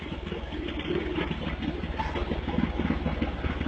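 A homemade mini tractor fitted with a Caliber motorbike engine runs steadily close by, a continuous mid-pitched putter with a faintly uneven idle throb and no talking.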